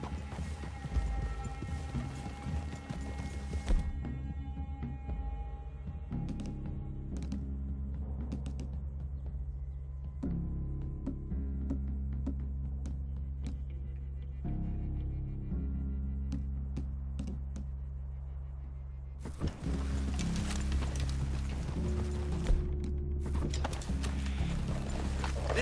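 Horse hooves clip-clop in Red Dead Redemption 2 as riders approach a clearing near a cabin, with steady low rumbling game ambience and scattered sharp knocks throughout, louder passages at the start and end.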